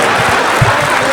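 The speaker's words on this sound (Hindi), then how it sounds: "तो बजाओ सारे एक बार जोर से ताली" Audience applause from a Haryanvi comedy show crowd in Tohana, a short burst of clapping that stays broad and steady with no clear peaks, fairly loud and without voices over it.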